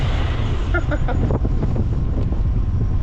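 Loud, constant wind buffeting the microphone while cycling through villages in Vietnam, a heavy low rumble that fills the whole clip with no breaks.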